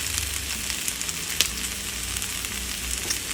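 Onions sizzling steadily in a frying pan for Russian-style fried potatoes, a constant close crackling hiss with a single brief clink partway through and no talk.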